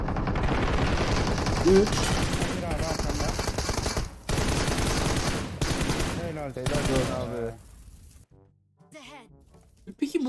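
Rapid gunfire in a PUBG Mobile battle, loud bursts of machine-gun shots crackling in dense runs with short gaps, while a young voice talks over parts of it.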